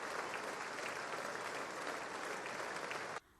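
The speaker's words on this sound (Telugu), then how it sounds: "అమెరికా చట్టసభ్యులు లేచి నిల్చొని చప్పట్లు కొడుతూ సాదర" US Congress lawmakers, standing, give Prime Minister Modi sustained applause inside the chamber, a dense, even wash of clapping that runs loud for about three seconds and then cuts off abruptly.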